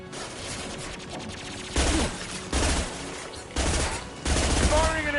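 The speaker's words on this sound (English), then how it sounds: "Firing an impact shot!" Impact shot gunfire in the Mass Effect 2 video game: loud bursts of rapid shots in three or four sustained volleys separated by brief gaps, with game effects and a short voice line.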